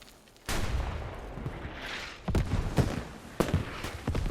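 Mortar fire in the video game Squad during a 26-versus-26 tournament match, heavy booming impacts arriving in separate bursts, the first sudden and loud, followed by further blasts and rumbling combat noise.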